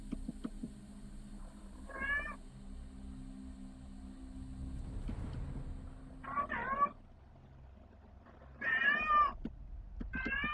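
A cat meows repeatedly in the point-and-click game Art of Murder, four distinct drawn-out cries spaced a couple of seconds apart over a quiet low background hum.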